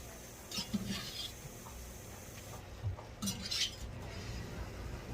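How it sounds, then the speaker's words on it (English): Hamburger patties scooped back into a pan with onions, faint scraping and light metallic clinks of a utensil against the pan, a few scattered taps over quiet kitchen background. "we are going to go ahead and scoop these hamburgers back in here"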